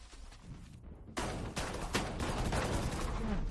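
Gunfire in the video game Valorant, a rapid volley of sharp shots in quick succession, fairly faint and heard from a gameplay stream.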